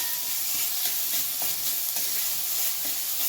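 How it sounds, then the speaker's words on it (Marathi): Green chili and garlic paste fries in a pan with a steady, loud sizzle and hiss, broken by faint scraping stirs, close up and without talk. "यामध्ये आता आपण हिरवी मिरची आणि लसूण याचं वाटण घालून घेऊया. याला आपल्याला 2 मिनिट छान परतून घ्यायचं आहे"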